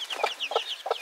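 Backyard chickens cluck close by in three quick, evenly spaced bursts, with soft chirping peeps in between.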